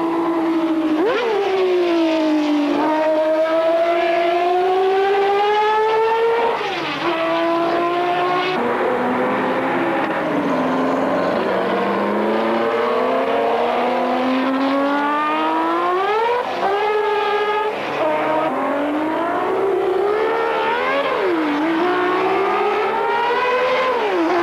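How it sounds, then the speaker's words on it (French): A Matra M650 race car, a 1971 winner, drives on the Tour Auto, its engine screaming loud and continuous through repeated rising revs and gear changes, with no talk. "Invitée vedette du Tour Auto, la Matra M650, victorieuse en 1971, elle est pilotée ici par André Binda"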